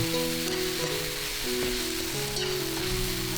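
Steady sizzling and frying of shrimp fried rice in a hot wok with scraping and tossing noises, close and continuous, no voices.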